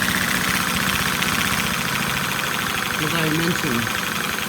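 A Lego OHV inline two-cylinder vacuum engine runs steadily with a continuous buzzing, whirring drone, close and loud, while a person talks over it.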